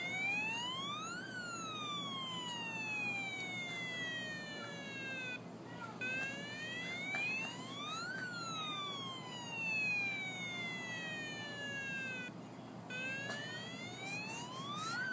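A toy police car siren wails in repeated rising and falling sweeps, loud and close, cycling steadily for several seconds with no talking over it.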